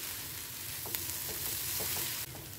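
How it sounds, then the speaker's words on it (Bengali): Spice paste for an Indian egg pepper fry is stirred and fried in a pan, giving a steady close sizzling hiss broken by a few light spoon scrapes. "মশলাটাকে ভালো করে মিশিয়ে নিই"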